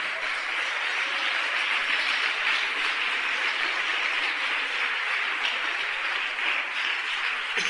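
A church congregation applauding during a sermon, a dense sustained roar of many hands clapping at steady loudness throughout, with no distinct voices.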